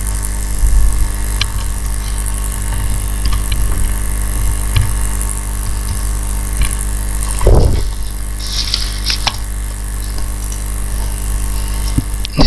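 Gear system of a gate control setup running steadily, a continuous low mechanical hum with faint whirring throughout and a brief louder thump near the middle.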